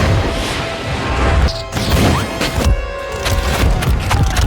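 A phone is smashed during a fast action film scene, with crashes, thuds and whooshes piled into a dense, loud stretch of effects and score.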